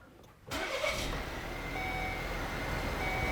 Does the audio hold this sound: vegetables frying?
no